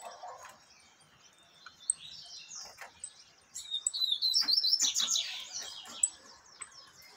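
Peruvian canaries, a female and a male, give quiet, bright chirps and short warbling trills, sparse at first and then building into a denser burst of song midway before thinning out again.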